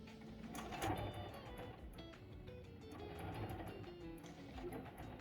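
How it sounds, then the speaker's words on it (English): A sewing machine stitching fabric in short bursts for an improv curved patchwork sampler, its rapid mechanical rattle starting and stopping at close range over a low room background. "It's just a few stitches at a time, gently working that fabric into place right as it slides under the needle."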